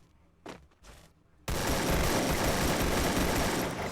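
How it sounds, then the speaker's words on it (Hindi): Sustained automatic gunfire in the Free Fire battle royale game, a dense, loud continuous burst after a couple of brief shots, with no talk over it. "तभी मुझे सामने फायरिंग की साउंड आती है"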